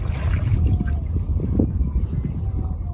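Small boat rowed with one hand, a continuous low rumble of water and hull movement with wind buffeting the microphone, steady and close throughout.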